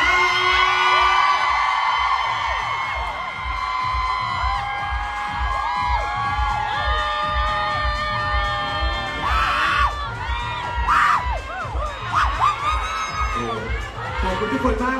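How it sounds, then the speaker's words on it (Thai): A large crowd of fans screams and cheers loudly and continuously at a celebrity fan event in a Bangkok shopping mall, with shrill whoops and yells rising in waves and a voice faintly heard underneath. "ขอเสียงกรี๊ดดังๆ"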